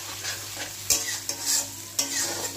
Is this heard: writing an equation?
no